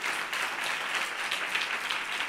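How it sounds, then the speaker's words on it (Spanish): Applause for a young girl contestant at a children's reading and voice competition, a steady wash of hand clapping from the audience, fairly loud and continuous for a couple of seconds with no talking. "Ese aplauso para Lucía"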